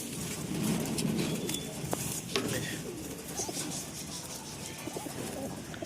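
Domestic pigeons held for sale coo nearby in low, throaty rolling calls, with a few sharp clicks and rustles scattered over a constant background murmur.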